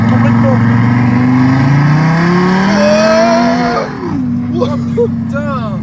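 Twingo Cup race car with two engines, both revving hard as the pitch climbs in layered harmonic whines, then dropping sharply and settling before squealing, rising tones return, loud and close, with voices talking over it.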